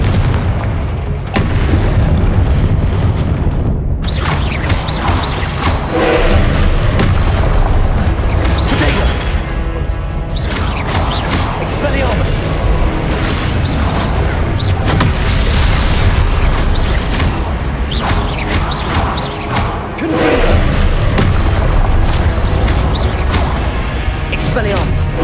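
Confringo blasting spell explosions in the Hogwarts Legacy video game, a dense stream of loud booms and bursts over continuous battle noise, with voices shouting throughout.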